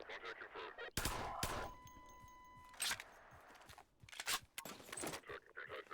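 Mini Uzi fired in Gmod with CoD SWEPs, short rapid bursts of sharp gunfire in separate clusters, with a ringing tone after the first burst.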